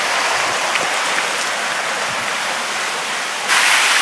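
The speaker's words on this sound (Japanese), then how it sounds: "古天狗の滝、その落差10メートル。" The Kotengu waterfall, a 10 meter drop in the mountains, roars with a loud, constant broadband rush of falling water that swells slightly louder near the end, with no voices.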